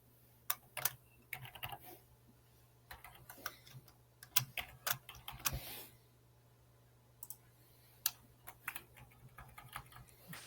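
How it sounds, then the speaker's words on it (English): Rapid bursts of computer keyboard typing by two players in an online game, sharp irregular clicks with brief pauses, close and fairly faint over a low steady hum. "Some furious typing back and forth between the two of them."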